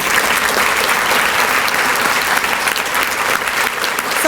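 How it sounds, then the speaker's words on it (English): Loud, sustained applause from an audience at a celebration gala, steady dense clapping filling the room throughout without a break. "Give them a round of applause."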